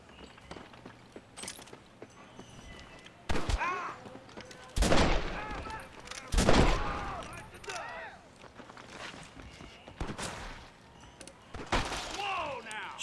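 Gunshots crack in a Red Dead Redemption saloon shootout, loud single and clustered blasts spread across the scene among quieter game noise. A player talks between the shots.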